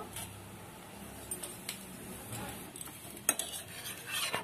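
Pitha cake being flipped and cooked in a pan, with scraping and clinking of a utensil against the pan, a few sharp taps and a soft sizzling hiss throughout.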